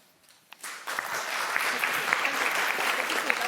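Audience applause at a history conference welcomes the panel participants: a dense, steady clapping that swells in after a quiet moment and holds at a fairly loud, even level to the end.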